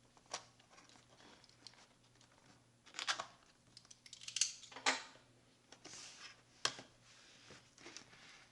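Cutting open the cardboard box of a TACKLIFE MDC02 DC power supply, a few sharp, close slicing and tearing bursts separated by quiet pauses, with crinkly packaging noise between, no speech.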